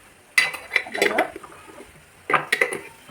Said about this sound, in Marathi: पहिल्या त्या मसाल्याला बंद करून त्याच्या जागेवर ठेवू मी बंद करतो